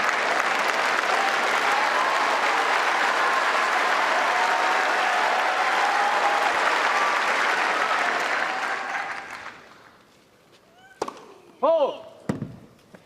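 A Wimbledon tennis crowd applauds in a broad, sustained roar for several seconds, then the clapping fades to quiet, broken by a few sharp knocks.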